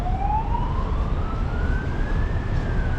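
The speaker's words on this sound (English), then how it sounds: "It's like several ambulances here." An ambulance siren rises slowly in pitch against steady road noise in Taipa, Macau, sounding fairly close and loud.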